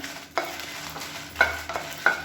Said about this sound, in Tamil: இப்போ வரமிளகாய் நல்லா வறுபட்டு வச்சு எடுத்துடலாம்